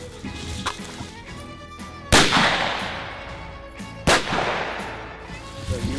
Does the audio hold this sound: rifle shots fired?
yes